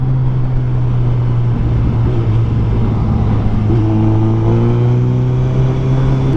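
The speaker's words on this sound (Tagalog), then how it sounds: "Parang normal na motor lang, pero sobrang smooth, tapos ang laki ng tunog." A 2024 Suzuki Hayabusa motorcycle with dual exhaust runs loud and close, holding a steady, smooth engine drone that rises slightly in pitch partway through, with no talking.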